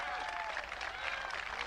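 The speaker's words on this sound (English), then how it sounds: "And the people cheering in the background" Faint crowd applause and cheering rise steadily behind a speech by the President on voting rights and the filibuster, a continuous distant wash of clapping.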